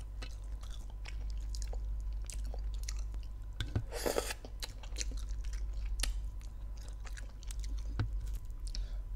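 Someone chews crispy pork papaya salad close up, with steady wet crunching and biting in an irregular rhythm over a low hum, and one louder crunchy burst near the middle.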